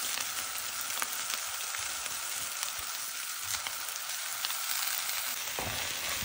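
Leaves fry over a low flame with garlic, onion, dried fish and chili, giving a steady close sizzle and crackle that runs the whole time with no voices.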